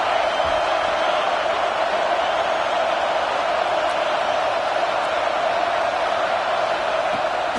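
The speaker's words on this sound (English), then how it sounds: "The roar of the crowd trying to fuel this defense to keep them pinned in their own end." A stadium crowd at an Auburn college football game roars steadily, a dense, sustained wash of cheering voices, loud and constant throughout, with no distinct individual speech.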